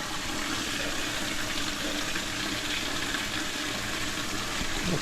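Water rushing through a supply pipe fitted with a half-inch reducer, a steady, hissing gush at moderate level, continuous and unbroken with no voices.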